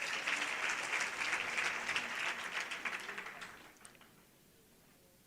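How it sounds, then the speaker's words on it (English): A crowd applauds the Premier at a Women's Fund unveiling, a thick, sustained burst of clapping that gradually thins and fades out near the end. "Let us clap for our Honorable Premier"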